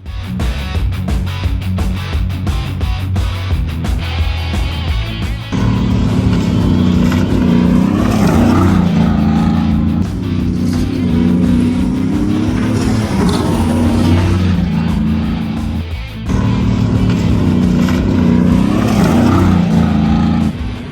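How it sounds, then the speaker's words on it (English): A stock Ford Raptor pickup with Live Valve suspension takes a small off-road jump, its engine droning steadily and then surging loudly into a revving roar that holds before briefly dropping and rising again, close and dominant. "here's how a stock live valve Raptor handled this jump"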